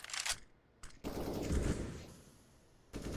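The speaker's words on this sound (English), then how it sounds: "AK sprays back and forth for the wall bangs for both sides of things" Automatic AK rifle fire sprays in a CS:GO pro match on the Vertigo map, with loud bursts of rapid shots broken by short pauses and a sustained volley in the middle.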